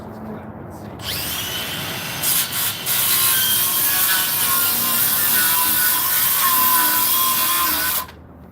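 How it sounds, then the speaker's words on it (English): A Sawzall reciprocating saw cuts through wood during a home renovation: loud, continuous, close-up buzzing and rasping that kicks in abruptly, runs for about seven seconds with a brief stutter, then cuts off sharply. "Finish it off with the sawzall."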